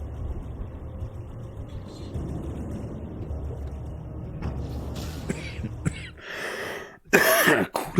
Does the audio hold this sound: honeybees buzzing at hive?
no